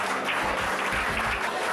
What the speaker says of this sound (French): C'est sous de longs applaudissements qu'ils montent eux aussi sur le podium